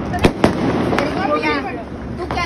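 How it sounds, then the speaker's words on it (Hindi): Diwali firecrackers burst in quick sharp pops amid a constant crackling din, while people talk nearby over the noise. "हमें सस भाई इतने पटाखे फूट रहे हैं देखो"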